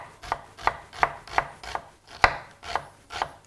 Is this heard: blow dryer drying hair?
no